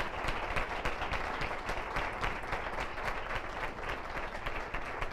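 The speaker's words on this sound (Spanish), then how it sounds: "que deis un aplauso muy grande a Claudio, Fernando, a Noelia y a Nacho." Audience applauding at the close of a panel event, dense steady clapping from a crowd throughout, moderately distant and even in loudness.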